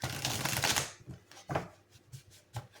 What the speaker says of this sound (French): je vais tirer avec les cartes avec le tarot d'or